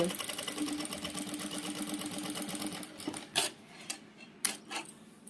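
A Jack sewing machine running smoothly, stitching at a steady, even hum for about three seconds before stopping, followed by a few sharp clicks and mechanical knocks close by.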